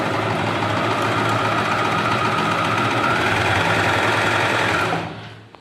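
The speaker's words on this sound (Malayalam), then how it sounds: "പ്രസ് ചെയ്യുന്ന സമയത്ത് മെഷീൻ റൺ ചെയ്യും." A Butterfly sewing machine runs steadily and loudly under pedal control, its motor whirring without a break for about five seconds before winding down and stopping.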